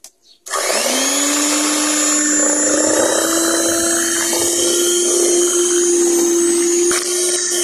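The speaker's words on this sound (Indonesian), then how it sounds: "Nah, ini kita mixer kembali" An electric hand mixer beats pukis cake batter with coconut and cheese, a loud high whine that starts abruptly and runs steadily with a slight rise in pitch, then briefly dips near the end.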